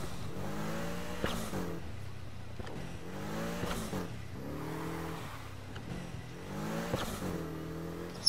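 A Porsche engine in the racing video game Need for Speed Heat, revving up repeatedly in rising sweeps and dropping back, a steady rhythm of roughly five climbs, close and clear with no talking over it.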